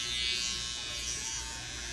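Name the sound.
electric hair trimmer buzzing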